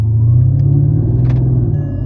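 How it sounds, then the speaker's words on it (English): Low, steady exhaust drone heard from inside a car with the windows up, a constant deep rumbling hum that fills the cabin, close and loud with a slight rise and fall, no talking. "inside the car with the windows up, listen, guys, you can hear the exhaust like a drone sound"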